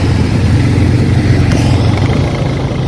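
A motorcycle ridden slowly along a road gives a steady, low engine drone, moderately loud and close, with no voices over it.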